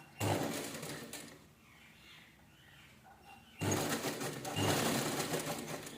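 A sewing machine stitches a piping strip onto a blouse lining, two bursts of fast, close whirring separated by a quiet pause.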